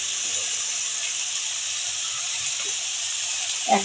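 Dry spices such as turmeric and ground cumin are added to onion and garlic frying in a pan, making a loud, steady hissing sizzle close by, with a soft knock at the very end and no talking.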